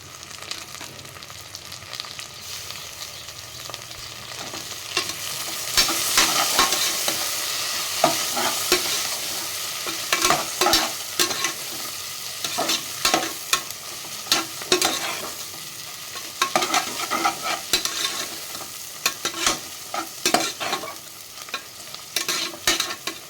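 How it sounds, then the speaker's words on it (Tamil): Onions with a handful of mint sauté in a pan for vegetable biryani, a continuous close sizzle punctuated by frequent sharp spatula scrapes and clacks in an irregular stirring rhythm. "வெங்காயம் நல்லா வதங்கட்டும், கோல்டன் ப்ரௌனாக."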